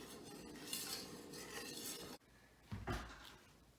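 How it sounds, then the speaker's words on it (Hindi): Spoon stirring honey into a homemade immunity booster tonic, with clinking and scraping against the container through the first half, a short pause, then a few louder knocks and stirs. "अब आप ये टॉनिक को अच्छी तरह से मिक्स करना है।"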